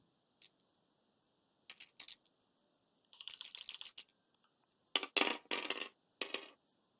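Dice rolled during a tabletop board wargame give several quick, faint clattering bursts at close range, scattered across a few seconds with quiet gaps between them.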